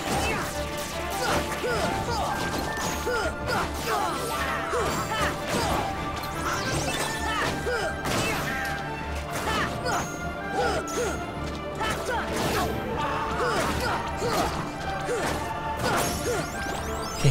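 Emblem shards shatter in Kingdom Hearts Final Mix HD with repeated glassy smashes and crashes. They are dense and loud, arriving in quick bursts over continuous game music and effects, with no talking.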